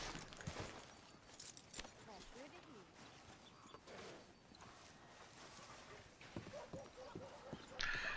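A horse's hooves clip-clop at a steady walking rhythm while riding in Red Dead Redemption 2, with game sounds and spoken voices layered over the hoofbeats.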